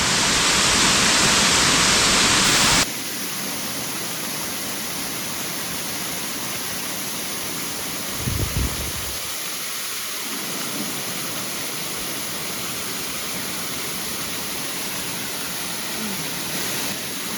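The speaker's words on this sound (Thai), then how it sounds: "ถือว่าสวยงามมากๆนะครับผมเป็นน้ำตกอยู่ในกลางป่านะครับ" Steady broadband rush of a waterfall roughly six to eight meters high, deep in a forest during rain, loud and continuous with a brief low thump partway through; no talking.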